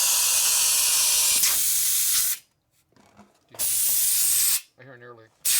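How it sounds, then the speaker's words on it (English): A motorcycle inner tube on a 1972 Harley XL Ironhead bobber leaks air in a loud, close, broad hiss, broken by brief gaps and a few murmured voices. "I hear an air leak."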